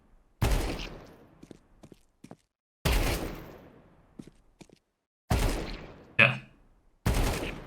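Short gunfire bursts in a shooter video game, four sharp rapid volleys of a few rounds each separated by silence, with scattered faint clicks and a brief spoken word between them.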